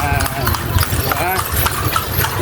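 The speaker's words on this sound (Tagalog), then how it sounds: "Ayan yung kabayo namin." Horse hooves clip-clop in a steady rhythm on the street as a horse pulls a kalesa carriage along Calle Crisologo. Mixed with engine hum and passing traffic noise.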